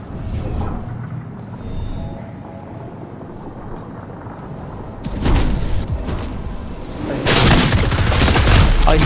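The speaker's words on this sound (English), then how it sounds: "Shots finally." Gunfire in a shooting video game: dense bursts of shots break out after a quieter stretch, loud and close, with a heavier volley near the end.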